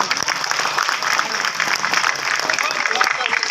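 At a poetry recital, an audience breaks into steady, dense clapping that holds at an even, moderate level, crowded and sustained across the whole stretch.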